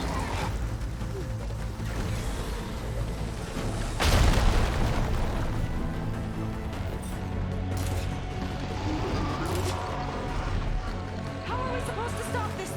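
A machine fires explosives in Horizon Forbidden West, giving one loud, deep booming blast partway through. A steady mechanical rumble sits under it, and voices speak over the scene.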